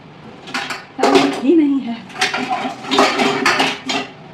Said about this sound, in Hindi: कढ़ाई रखती हूँ